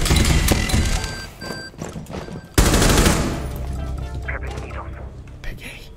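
Rapid automatic gunfire and single shots ring out in the shooter game Rainbow Six Siege, loud bursts coming in clusters with sharp cracks, under chatter from players.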